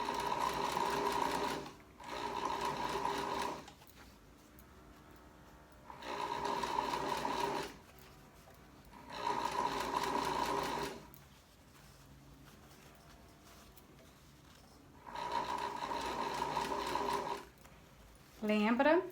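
A sewing machine stitches fabric for a cachepô, a fabric plant-pot cover, running in loud steady bursts of about two seconds, separated by short pauses in which quieter talk and handling noise fill the gaps.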